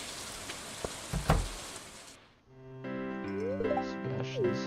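Rain falls steadily in the Stardew Valley video game, a soft hiss with a few louder taps for about two seconds before the game's chiming music takes over.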